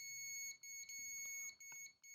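A continuity beep sounds while a terminal on an air conditioner's PCB buzzer section is tested: a steady, quiet, high-pitched electronic tone, broken by several brief gaps, with no talking.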